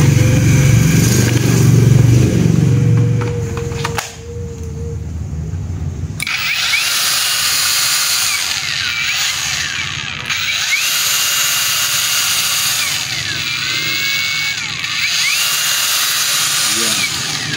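A cordless power tool from an INGCO lithium-ion rotary hammer and angle grinder kit whirs steadily and loudly after a short pause, a high buzzing motor running continuously for several seconds with slight changes in pitch.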